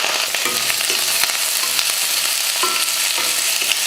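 Onions and curry leaves sauté in hot oil in a pan, a steady close sizzle with crackling pops and occasional scraping stirs, no voices.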